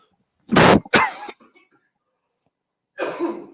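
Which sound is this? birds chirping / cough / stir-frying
cough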